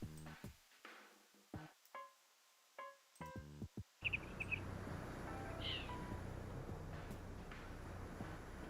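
Bird sound effect in a Dolby Atmos audio drama mix, brief chirps and calls panned around as if flying, first in near silence with sparse tonal hits, then over a dense, steady wash of background noise.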